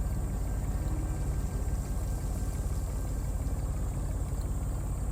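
An engine running in the Secret Files 3 adventure game: a steady, close, low rhythmic mechanical throb that carries on unbroken at an even level, with no voices over it.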